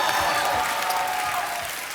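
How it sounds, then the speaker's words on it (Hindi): A studio audience on a TV comedy show breaks into loud, dense applause, an unbroken wash of clapping that fades slightly toward the end. "आप सबकी जोरदार तालियों के बीच बुलाना चाहूंगा"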